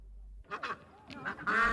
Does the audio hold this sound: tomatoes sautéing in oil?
no